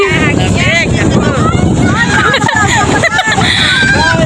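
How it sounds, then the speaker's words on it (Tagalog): Strong, cold wind buffets the microphone on Laguna Bay as a boat moves across the water, a steady roar under excited, overlapping talk and shouting from several people throughout. "Lakas ng hangin, malamig!"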